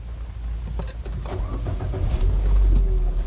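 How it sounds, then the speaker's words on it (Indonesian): An automatic car's engine is started again while parked on a hot day, a low rumble building and growing louder toward the end, with faint background sounds. "Maaf, mesin saya hidupkan lagi ya, karena ini panas."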